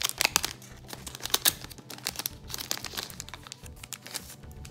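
Plastic foil packaging on Pokémon GO trading cards is cut open up close, producing sharp crinkles, crackles and tearing bursts in an irregular rhythm, with no talking.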